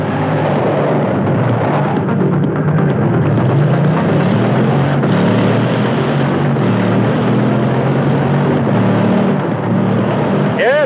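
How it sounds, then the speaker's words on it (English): A jet plane roars steadily and loudly throughout a Forza Horizon 4 pursuit, a dense continuous engine rush with no break, ending in a brief rising tone. "The baddies in a jet plane"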